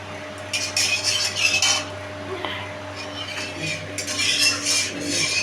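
Pumpkin with salt and turmeric is stirred in a pan, bursts of utensil scraping and clinking against the metal over a steady background hum, close by.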